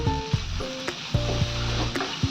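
Loitta fish, or Bombay duck, frying crisp in hot oil, with a steady, close sizzle and a few light taps and scrapes from stirring, and no voices.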